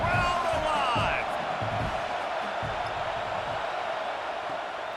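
A stadium crowd roars and cheers steadily in EA Sports College Football 26 during a third-down red zone play, with a whistle-like tone early on and a thumping bounce, the roar staying loud and continuous throughout.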